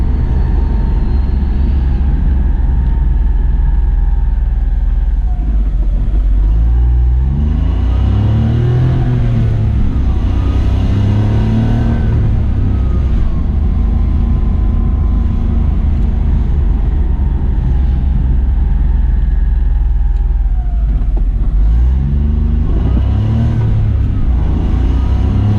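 A 1990 Honda Acty Street G small kei truck engine revs up and falls back in a few rising and falling surges over a steady low drone, loud and close, with no talking.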